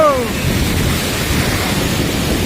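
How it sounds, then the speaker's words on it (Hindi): Umru waterfall in West Karbi Anglong, heard from right beneath the falls as a loud, constant roaring rush of water with strong wind buffeting the microphone, steady from start to finish. "हम पूरा वाटरफॉल के नीचे है।"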